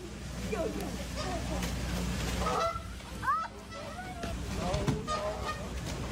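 Goose honking inside a tiger enclosure, several harsh squawking honks scattered across the clip over a busy background, with a person talking over it.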